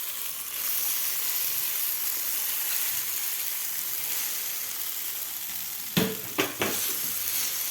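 A Maggi noodle and egg mixture sizzles steadily on a hot oiled pan for an omelette-style paratha, a constant close frying hiss with a few brief clinks near the end.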